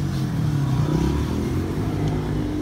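A 2006 Honda Future Neo motorcycle with its original engine runs steadily nearby, a loud, continuous low idle rumble with no break.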